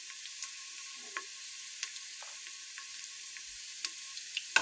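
Chopped onions with small and large cardamom and cinnamon frying in oil for a Kashmiri monge haak and mutton dish, giving a soft, steady sizzle close by, broken by occasional small pops and spatters.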